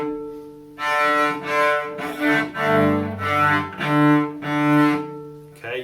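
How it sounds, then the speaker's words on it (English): A beginner bows sustained notes on a cello, about five long tones in a row with brief breaks between strokes, played alone at moderate loudness, where scratches and squeaks are expected. "Beginner sounds on the cello might sound like this."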